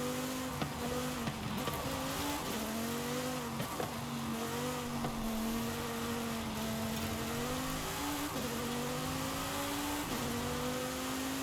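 A race car in Forza Horizon 5 driven around a track, its engine revving up and down through repeated shifts, with bursts of tire squeal; a loud, continuous, near drone with no talking.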